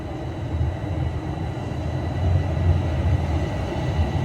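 An out-of-service TTC subway train rolls through Highway 407 station with a steady low rumble that swells slightly midway, no voices.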